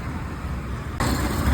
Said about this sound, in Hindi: पीछे ट्रैफिक का नॉइज आ रहा है